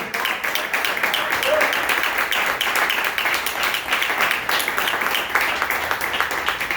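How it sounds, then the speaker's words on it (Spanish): Church congregation applause, steady and continuous, with a preacher's voice speaking over the dense, rapid clapping throughout. "Dele fuerte el aplauso al Señor, déselo fuerte,"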